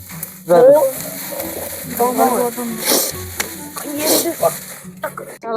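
Noodles tossed into sautéed vegetables frying in a pan, with a loud close sizzle and clattering stirs and scrapes, while a person talks over the cooking throughout.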